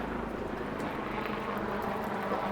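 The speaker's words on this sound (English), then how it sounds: "There's a helicopter." A helicopter passes overhead above a downtown Toronto street, its steady broadband rotor and engine roar filling the city air continuously without any talk.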